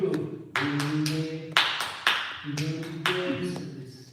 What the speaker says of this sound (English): This is the wrong clapping for the children because it will slow it down.